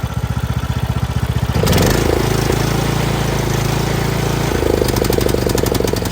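Small engine of a Craftsman T210 lawn tractor running after a choke adjustment, a loud, close, rapid chugging that shifts into a rougher, faster, louder rattle partway through, with no talking.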